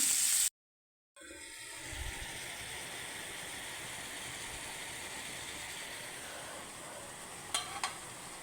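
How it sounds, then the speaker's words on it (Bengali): Pumpkin cooks in a pot on a wood-fired stove, giving a steady low sizzle and crackle after a brief gap of silence, with a couple of faint clinks near the end. "এই যে এখন মিষ্টি কুমড়াটা বসাই দিছি, একটু রান্না করা হইলে হয়ে যায় আমার রান্না"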